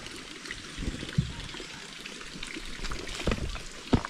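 Water trickles and pours steadily as a crayfish and tilapia pond is drained, with a soft, continuous flow and a few louder splashes and gurgles close by, fairly faint overall.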